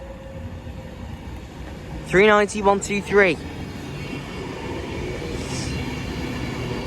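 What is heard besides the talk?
Avanti West Coast train arriving at station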